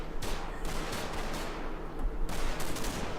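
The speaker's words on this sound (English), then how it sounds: "area shot there from one of my machine guns" Machine gun area fire in Combat Mission during a Market Garden campaign battle: rapid, loud bursts of automatic fire repeat in dense volleys close by, with brief gaps between strings of shots.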